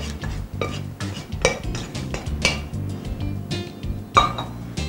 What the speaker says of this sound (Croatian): Sastojke prebacimo u zdjelu s kiselim kupusom.